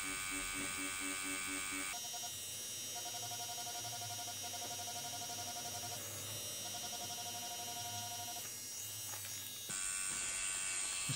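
A tattoo machine shading a realistic skull tattoo buzzes steadily and close, a continuous electric hum with shifting intensity as the needle works, running throughout without talk.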